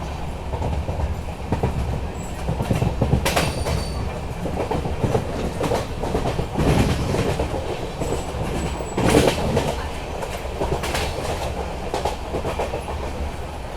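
Narayanadri superfast express from Lingampalli to Tirupati running at speed on the Chennai main line, a loud continuous rumble with rhythmic clickety-clack of wheels over rail joints and occasional squeals, heard from on board.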